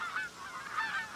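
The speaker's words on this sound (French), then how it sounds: "Ce sont des outardes" Canada geese honking in autumn, several nasal calls overlapping from a flock, moderately distant and fairly faint, with no voices.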